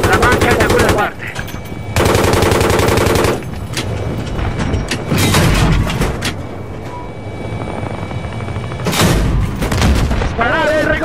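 Machine gun fire in the video game Battlefield 3, long loud bursts of rapid automatic shots alternating with pauses, backed by a droning helicopter-like rumble and scattered battlefield noise.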